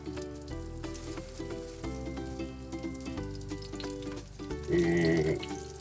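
Steady sizzling of dried fish (danggit) frying in a pan, a constant crackling hiss with a brief louder burst near the end; no talking.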